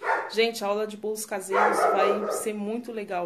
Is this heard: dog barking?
yes